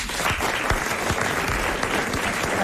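A 1995 French television studio audience claps continuously, a dense, even wash of applause with individual hand claps standing out close by throughout.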